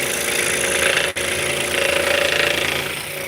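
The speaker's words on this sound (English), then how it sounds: "So scroll saws are very, very, very safe." A scroll saw cuts wood to make drop spindles for spinning yarn. It gives a loud, steady, close-up motor hum and rapid buzzing vibration, with one brief dropout midway and no talking.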